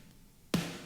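Single snare drum sample from a metal mix, one sharp loud crack after a short quiet lead-in, ringing briefly and played alone.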